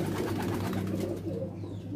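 A pigeon coos in low, soft, rolling tones, close by, with a faint hum in the background.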